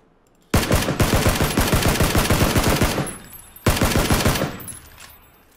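Video game gunfire in two bursts: a long rapid automatic volley, then a shorter one after a brief gap, each loud and close with sharp repeated cracks that trail off.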